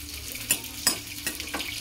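Dried red chillies frying in a pan, a soft steady sizzle broken by a few sharp stirring clinks and scrapes against the metal.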